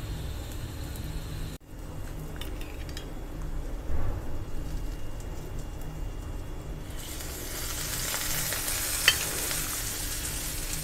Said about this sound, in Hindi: दोनों तरफ से घी या तेल में आप इसको सेकें।